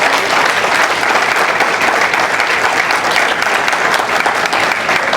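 A church congregation breaks into loud, sustained applause during a sermon, a thick, continuous roar of many hands clapping close up with no break.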